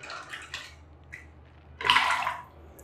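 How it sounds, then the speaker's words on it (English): Cold water splashes as hands and face are rinsed after a shave, in a few soft splashes followed by one louder, longer splash near the end, close by. "So I will now just rinse off my hand and face with cold water."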